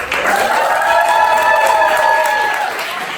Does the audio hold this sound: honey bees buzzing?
no